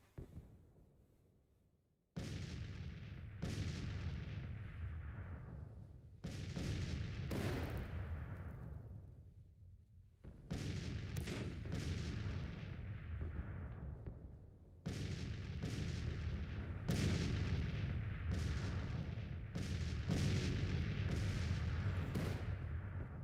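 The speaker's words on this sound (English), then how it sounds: "Let's take a look at my cannons as they do their volleys on that soft centre." Cannons fire repeated volleys in a strategy video game, each booming report followed by a long rumbling decay, with several shots overlapping in irregular succession.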